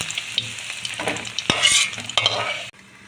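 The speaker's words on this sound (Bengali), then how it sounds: "তেল গরম হয়ে গিয়েছে, পনিরটা দিয়ে দেবো। পনিরটা একটু লাল লাল করে ভেজে নেব।" Cubes of paneer fry in hot oil, giving a loud crackling sizzle with bursts of spitting and stirring scrapes, cutting off abruptly near the end.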